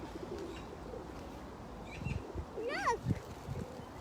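Pigeons being fed in London give soft, low coos, one rolling call standing out near the middle, faint against light outdoor ambience while people talk nearby.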